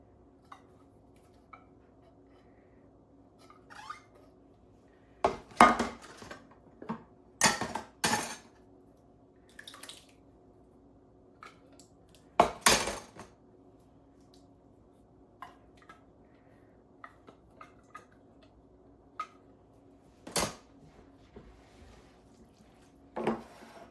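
Chili ingredients (kidney beans, tomato sauce, diced tomatoes and tomato soup) are stirred in a pot, giving scattered close clinks and scrapes of a utensil against the pot amid quiet stretches.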